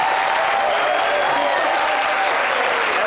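An audience at an evening show in Yopougon claps in dense, continuous applause, loud and sustained throughout with no pauses.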